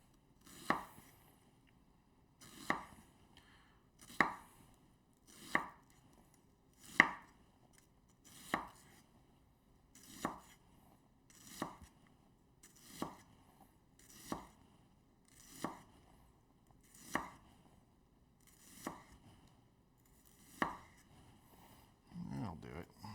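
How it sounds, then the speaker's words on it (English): A knife chops a small onion on a cutting board in slow, steady strokes, about a dozen crisp, close knocks spaced roughly two seconds apart in a quiet kitchen. "Just chop that last piece up nice and small."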